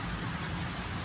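Steady rain pours down, a dense continuous hiss of drops on surfaces filling the whole moment with no voices.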